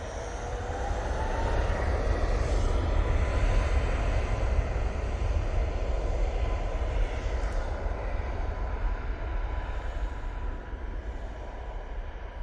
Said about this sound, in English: This Ryanair 737 MAX 8 is off to Palma de Mallorca.